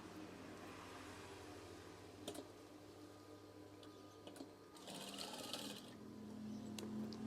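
A sewing machine stitching a fabric curtain swag, a faint, steady mechanical whirring with a few sharp clicks and a louder burst of stitching toward the end, heard from close by in a quiet room.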